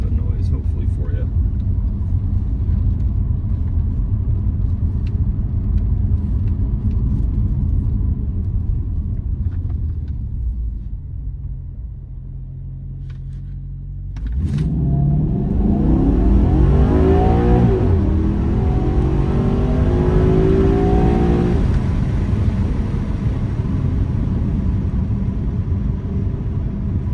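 A Maserati engine idles under a low rumble, quiets briefly, then surges as the car accelerates through the rev range, with a loud climbing engine note and repeated rises and shifts, heard from inside the car.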